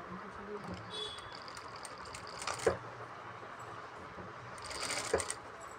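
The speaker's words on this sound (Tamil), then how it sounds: "நான் இங்கேருந்தே தைச்சிட்டே வரேன்." Sewing machine stitching a salwar suit, running in short bursts with a rapid mechanical whir and clatter, fairly quiet and close.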